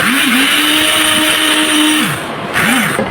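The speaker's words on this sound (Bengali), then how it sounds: "ব্লেন্ডার জারে আমি গুঁড়া করে নিচ্ছি" An electric blender jar grinds soaked, cooled rice into powder with a loud, continuous whirring roar whose pitch sags and rises as the load shifts, briefly easing before spinning up again.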